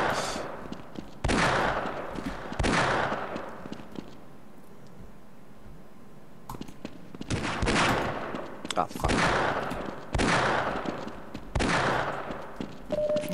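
Gunfire in the Half-Life Deathmatch video game: several loud bursts of rapid shots in clusters with a quiet gap midway, close and sharp, occasional voices mixed in.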